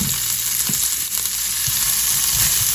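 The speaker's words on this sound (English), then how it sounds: "I'm going to saute up my onions and celery." Onions and celery sauté in a pot, a steady close sizzle and hiss with a few soft stirring knocks, no voices over it.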